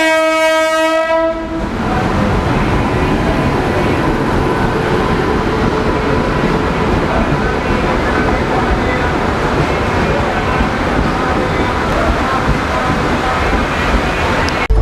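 Train with a diesel locomotive leaving Kasara station: a loud horn blast, then a continuous close rumble and clatter of wagons rolling along the track.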